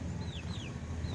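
Chicks on a village farm after their morning feed give thin, high peeping calls, a few brief chirps over a constant low rumble of background noise, faint and somewhat distant.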